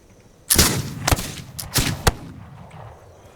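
Heavy .50 caliber gunfire in a first-person video game: a few loud, sharp shots in an irregular burst, each with a short ringing tail, with no talking over them.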